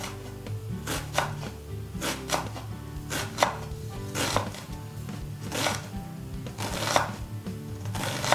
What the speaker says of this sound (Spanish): Picamos finita la cebolla.